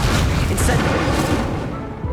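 Incendio, a fire spell in Hogwarts Legacy, erupts as a loud, booming burst of flame that rumbles on and slowly fades, filling the scene with sustained roaring noise.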